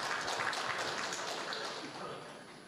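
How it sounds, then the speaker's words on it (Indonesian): Applause from an audience at an Indonesian political party gathering, a steady wash of many hands clapping that fills the whole stretch and fades slightly toward the end, with some voices mixed in. "Boleh tepuk tangan yang meriah."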